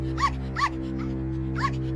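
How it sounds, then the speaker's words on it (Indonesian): Small dog Toto yipping in a children's fairy-tale story, three short high barks spaced apart over a steady low hum. "Tetapi ketika Toto mulai menggonggong, singa itu mundur ketakutan dan mulai gemetar."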